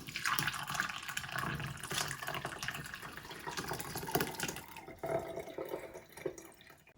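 Strained tea trickling through a small pour-over cone lined with a coffee filter, a steady close-up splash and dribble of liquid that tapers off toward the end.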